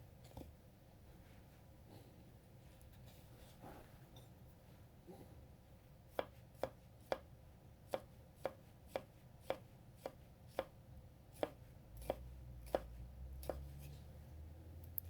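A Moritaka gyuto knife tap-chopping on a board, a quiet start giving way to a run of crisp, evenly spaced close taps, with a low rumble in the background toward the end.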